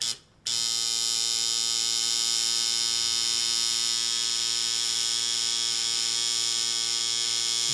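A tattoo machine runs a line on skin, giving a loud, close, continuous electric buzz with a strong steady hum that starts abruptly after a brief quiet moment and holds unchanged.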